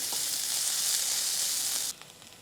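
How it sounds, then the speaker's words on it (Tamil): Bitter gourd frying on high heat gives a loud, continuous sizzle close by for about two seconds, then cuts off sharply, leaving only faint clinks. "இனிமேல் கொஞ்சம் ஹை ஹீட்டில் வச்சு கொஞ்சம் மொறுமொறுன்னு வறுத்து எடுத்துட வேண்டியதான்"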